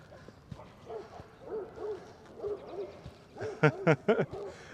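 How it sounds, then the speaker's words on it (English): Dogs in Prospect Park, New York City, bark in a quick burst of three or four loud, sharp yelps near the end, after softer hooting yips against faint park ambience. "Those dogs are happy puppies over there."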